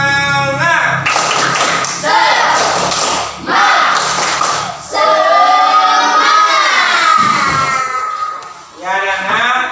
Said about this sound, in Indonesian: Coba tepuk semangat dulu. Tepuk semangat.